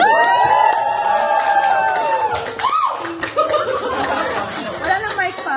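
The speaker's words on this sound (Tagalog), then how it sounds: "palakpak naman dyan." A crowd claps and cheers amid steady chatter and scattered laughter, with voices and a few tonal sounds running through the din.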